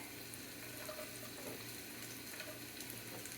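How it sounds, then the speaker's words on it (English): Onions and garlic sizzle in a pot for a vegan green curry lentil and pasta soup, a faint, steady, even hiss that continues without a break. "Yes, I hear sizzling"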